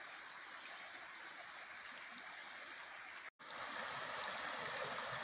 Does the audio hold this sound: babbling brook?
yes